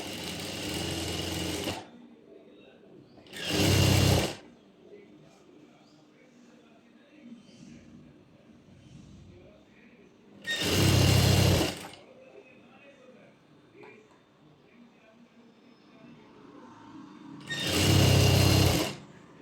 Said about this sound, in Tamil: அப்படியே பேண்ட்டை நம்ம வந்து கொஞ்சம் கொஞ்சமாக திருப்பி விட்டு ஸ்டிச் பண்ணிக்கணும்.